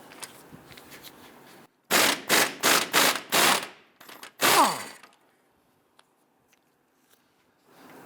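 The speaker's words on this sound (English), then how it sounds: "we're gonna use our impact gun" Pneumatic impact gun works the nut off a rear center lower control arm on a Dodge Charger in a garage: a run of five short, loud rattling bursts, a brief pause, one final burst, then near silence.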